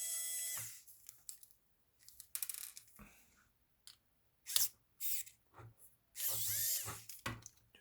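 Small screws are worked loose on a Kyosho Mini-Z RC car, producing faint tool clicks, brief whirring bursts and light metallic taps against a quiet background.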